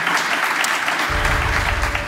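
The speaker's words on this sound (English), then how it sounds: "join me here in a round of applause for this fantastic panel" An audience at a European defence and security conference gives a panel a round of applause: dense, even clapping filling the hall, with a low, steady tone rising underneath partway through.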